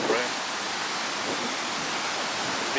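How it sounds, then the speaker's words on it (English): Ocean waves break on Kalutara beach in Sri Lanka, a steady broadband wash of surf that stays loud and continuous throughout, with no distinct individual crashes standing out. "I can see the waves are breaking in"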